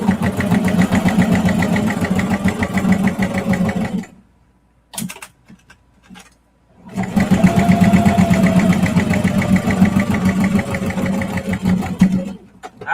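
A sewing machine stitches a clear vinyl project bag in two long, steady runs of rapid mechanical chatter, loud and close, with a short quiet break in between.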